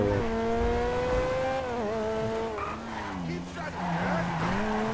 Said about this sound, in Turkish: O tünelde arabanın sesi çok iyi yalnız.